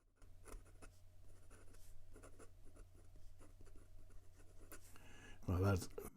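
A Ranga Abhimanyu Chestnut fountain pen scratches across paper, writing with the nib reversed, a faint continuous rasping stroke pattern, ending in a brief louder sound.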